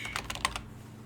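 Typing on a computer keyboard during Unity editor work: a quick, irregular run of close, crisp key clicks lasting about half a second, then quiet.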